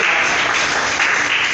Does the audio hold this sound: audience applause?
yes